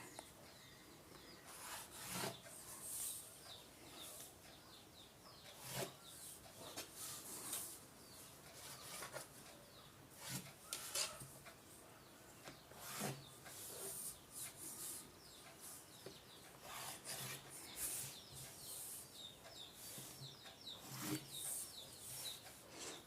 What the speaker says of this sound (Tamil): இப்போ ஸ்கேல் வச்சு லைன் ஃபுல்லாக வரைஞ்சிக்கலாம்